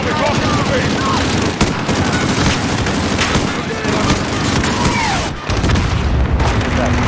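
Hellfire missile strike and gunfire in the video game Call of Duty: Modern Warfare, with a dense, loud wall of booms and rattling shots running continuously, and a brief dip near the end before the barrage resumes.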